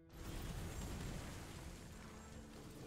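Chaotic explosion spell erupting in the video game Soulstone Survivors, a dense rumbling blast that hits at once and sustains as a roaring wash of booms, fading slightly toward the end, with no talk over it.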